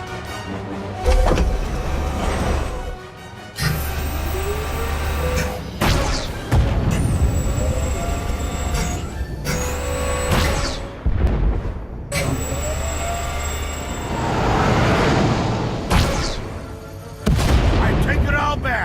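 Starship weapons firing and heavy explosions in Star Wars: The Old Republic – Knights of the Fallen Empire, a series of loud booms and blasts with whooshing sweeps, with characters speaking between the impacts.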